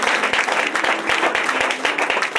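A church congregation applauds the Lord, producing loud, dense, continuous clapping from many hands close by, with voices mixed into the applause.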